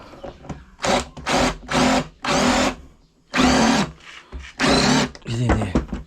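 A power drill driving screws into a wooden bench, with repeated loud whirring bursts of about half a second each separated by short pauses, close by with no talking.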